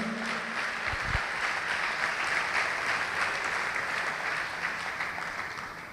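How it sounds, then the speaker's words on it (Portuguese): A church congregation applauds together in a steady, dense wash of clapping that holds evenly throughout, with a brief low thump near the start and no voices standing out. "Vamos aplaudir ao Senhor por isso."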